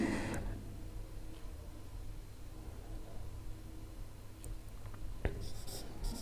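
Chalk or marker scratching across a classroom board while a sentence is written, faint and steady over low room hiss, with a sharp tap near the end.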